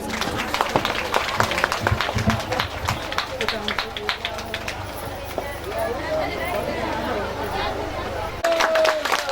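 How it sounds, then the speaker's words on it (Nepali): Audience clapping at a religious discourse gathering in Nepal, a dense, steady patter of many hands filling the whole stretch under and around a speaking voice, loud and close throughout. "ताली दिनुहोस्।"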